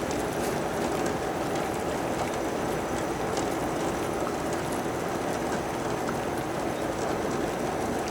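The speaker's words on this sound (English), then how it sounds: "the egg is boiling there" Steady, dense bubbling and hissing of water at a rolling boil with eggs in it, continuous and close, with faint clicks and no voices.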